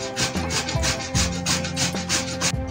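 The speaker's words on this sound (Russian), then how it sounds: "Картошку необходимо натереть на терке." Boiled potatoes are rubbed across a grater for a layered Mimosa salad, a quick run of close rasping strokes in an even back-and-forth rhythm.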